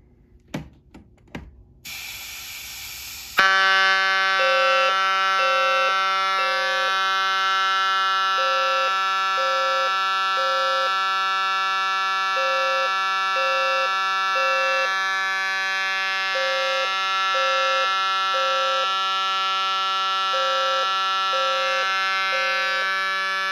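After a few clicks, a loud electronic alarm buzzer starts and drones steadily with a repeating pulsing tone, continuing without pause to the end.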